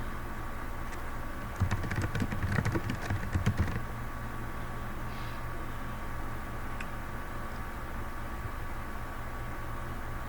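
Typing on a computer keyboard: a short cluster of quick clicking keystrokes near the start, set over a constant low room hum that carries on alone afterward.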